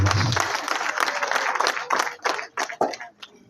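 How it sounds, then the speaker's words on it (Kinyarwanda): Guests at a Rwandan wedding ceremony clap together in a dense, loud burst of applause that thins into scattered, uneven claps toward the end. "Nakundera amashyi."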